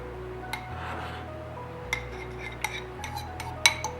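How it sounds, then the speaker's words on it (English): Wet ingredients for protein cinnamon sugar donut batter get mixed into the dry in a bowl, giving a few scattered clinks and scrapes of a utensil against the bowl, close and fairly quiet, with no talking. "we're going to mix our wet ingredients in with the dry"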